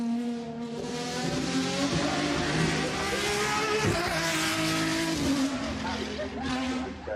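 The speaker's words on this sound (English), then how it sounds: "is this the last of the great V12 Italian supercars? Lamborghini says yes" A new Lamborghini SC V12 Italian supercar screams at high revs close by, a loud sustained wail with tire squeal, doing a burnout in a racing paddock, a voice talking over it.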